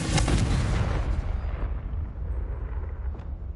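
Confringo fire-blast spells from Hogwarts Legacy erupt in a loud, broad explosive burst that rolls into a long rumbling, crackling decay, with a faint sharp pop near the end.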